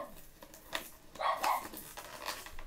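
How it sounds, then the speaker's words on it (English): A dog barks outside, a few muffled, distant barks and yips spread across a couple of seconds with no voices over them. "My dog's out there going crazy"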